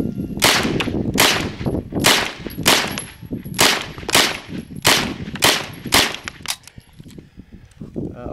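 A Century Arms Centurion UC-9 9mm Uzi-style carbine fires about a dozen loud, sharp shots at a watermelon outdoors, the reports spaced roughly half a second apart and ringing briefly before the firing stops.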